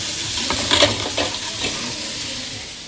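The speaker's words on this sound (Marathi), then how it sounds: "इकडे बोंबील आणि मुशी फ्राय होते" Bombay duck (bombil) and shark fish fry in a pan with a steady sizzle throughout, brief scraping stir sounds near the start, fairly close and alone.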